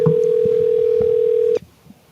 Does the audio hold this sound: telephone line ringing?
yes